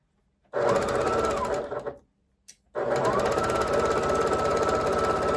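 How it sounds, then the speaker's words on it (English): A sewing machine stitches a quilt at close range, with a loud, steady mechanical whir. It pauses briefly just before the two-second mark and then restarts for a continuous run, with no talking. "This is real life sewing."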